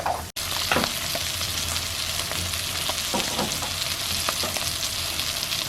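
Cheese grits with sharp cheddar are mixed in a pot. A steady, fairly loud hiss runs under repeated soft scraping strokes, with no one talking.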